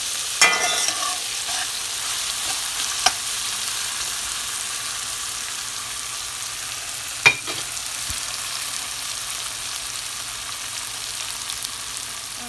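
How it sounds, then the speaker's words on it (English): Onions frying in a pan for dhal give a steady, even sizzle over a long stretch, with a few faint knocks and scrapes of stirring now and then. No voices are heard. "my onions have cooked down nicely"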